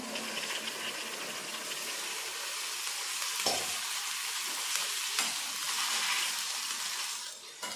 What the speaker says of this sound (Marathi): आता आपण या ग्रेव्ही मध्ये मिक्स करून घेऊया।